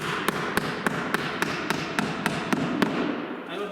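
Nails driven into cedar siding with sharp, evenly spaced hammer blows, about ten in a row, close and clear over a steady background hiss.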